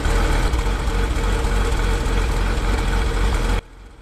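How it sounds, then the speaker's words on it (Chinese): An accident-damaged 2000 Porsche Boxster engine idles with an abnormal noise caused by an oil filler cap left off, a loud, steady close-up drone that cuts off abruptly near the end. "就是发动机出现了一些异响"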